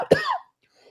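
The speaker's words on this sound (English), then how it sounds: "This is the worst I've coughed all day, guys." A person lets out one harsh, close cough that breaks off quickly, with near silence after it.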